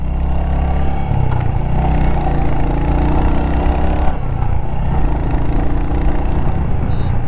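A Royal Enfield Hunter 350 motorcycle with 27 Nm of torque pulls away from a standstill, its engine loud and close as it revs up through the pickup, with a shift in tone partway through and again near the end.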